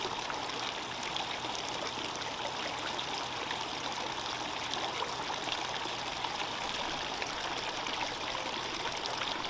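Water trickles and splashes steadily from a tiered garden fountain outdoors. It forms a continuous, even stream of close, bright, babbling sound with no voices.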